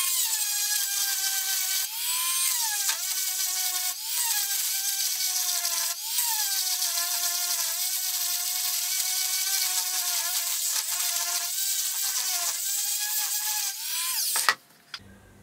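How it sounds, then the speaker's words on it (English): A Dremel with a grinding stone enlarging a hole in a steel toolmaker's mill vise, a continuous high-pitched whine that dips briefly under load several times before stopping abruptly. "I'll finish it off with a Dremel and grinding stone."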